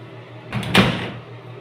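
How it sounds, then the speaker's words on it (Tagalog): A room door swings shut with a single close thump near the middle of the clip, heard close up with a brief rustle before the impact and a short decay after. "Pag sarado mo itong pinto,"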